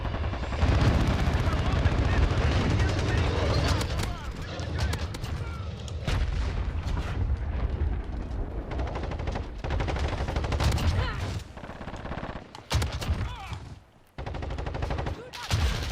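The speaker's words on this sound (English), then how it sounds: "We're taking fire." Dense, continuous gunfire and explosive booms from a Warzone firefight, with rapid bursts and volleys filling the whole stretch, and voices breaking through now and then.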